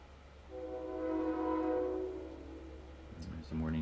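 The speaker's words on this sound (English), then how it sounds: "There's the morning train." Morning train passing at a distance, a sustained horn-like tonal chord swelling and fading over a few seconds beneath faint room ambience, with a brief voice near the end.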